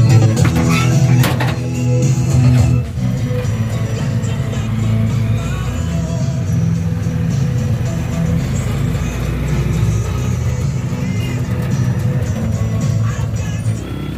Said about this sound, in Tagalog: So ayan, pasakay na kami ng tricycle.